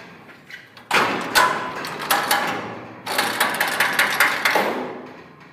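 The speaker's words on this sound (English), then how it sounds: "This is the handle for the squeeze part of the squeeze chute." The handle-operated squeeze mechanism of a TMG Industrial 10-foot cattle squeeze chute is worked, giving two runs of close metallic clanks, thuds and ratcheting clicks.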